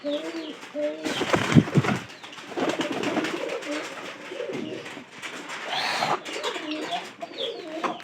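Several pigeons coo repeatedly in a newly set-up loft, the low rolling calls close and fairly loud, with some shuffling and a brief burst of wing noise early on.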